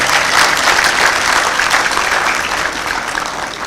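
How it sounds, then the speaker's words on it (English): Dense, steady applause from a large audience at a University of Ghana College of Health Sciences graduation congregation, loud and continuous, tapering slightly toward the end. "The applause was weak. We can do it better."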